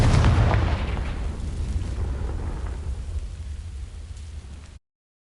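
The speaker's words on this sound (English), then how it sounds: "These dry vines are one spark away from becoming kindling. Confringo!" Confringo fire spell igniting dry vines in the Hogwarts Legacy video game: a loud burst and deep whoosh at the start, then a crackling rumble that slowly fades until the sound cuts off abruptly.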